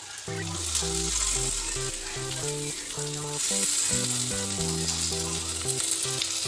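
Tomatoes with spices frying in a pan, a loud continuous sizzle and crackle with occasional stirring, heard under steady background music with no talking.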